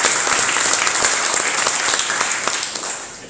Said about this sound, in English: big round of applause for Impact Hub